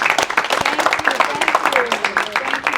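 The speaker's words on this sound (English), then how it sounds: "To give Mr. Aiden a round of applause." An audience applauds after a talk at a college campus in Tampa, a dense, steady patter of many hands lasting the whole stretch, with a voice speaking over the clapping.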